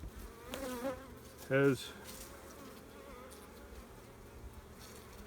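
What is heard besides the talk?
honey bees buzzing during a spring hive inspection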